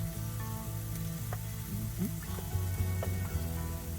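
Meat seasoned with salt, Old Bay and garlic powder sizzling in a pan cooked on a truck, a steady close crackle and fizz with faint mechanical clicks and a low hum beneath.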